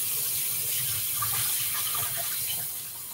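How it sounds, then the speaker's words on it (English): Rice being rinsed under cold running tap water, a steady close gushing and splashing stream that continues evenly before easing slightly at the end, with no voices. "Let's give this a good rinse in cold water."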